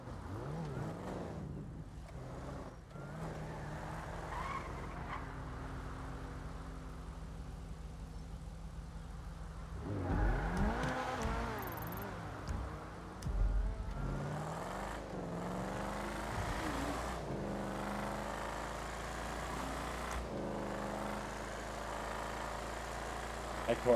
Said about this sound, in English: That car is fucking fast